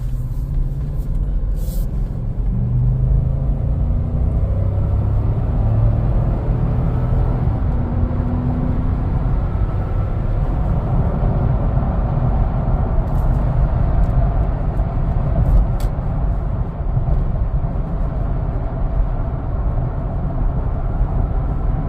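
A 2011 Lexus LX570 (200-Series) on the move, producing a steady, loud low road and engine rumble that continues unbroken throughout with no talking.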